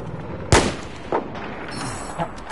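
Battlefield 4 gunfire: a hard close shot followed by two softer, more distant reports spaced across a couple of seconds over steady battle ambience.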